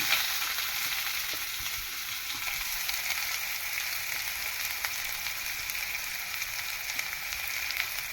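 Onions sauté in oil for kuzhi paniyaram, a dense, steady close-up sizzle with a faint occasional tick of stirring and no voices.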